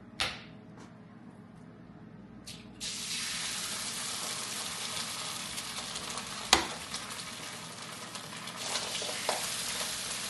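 Eggs and egg whites with spinach frying in a hot pan, a steady close sizzle that jumps sharply louder partway through as more egg hits the pan, with a few brief clatters on top.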